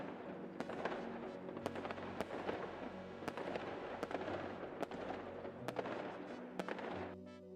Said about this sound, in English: Jagex's fireworks went off at 20k left for me